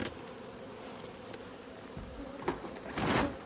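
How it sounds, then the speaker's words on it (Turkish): Honeybees swarm and buzz around an opened hive during robbing, a steady dense drone that swells louder toward the end as insects fly close. "Artık bize de saldırıyorlar yağmur faaliyeti olduğu için normaldir arkadaşlar arılarının saldırması"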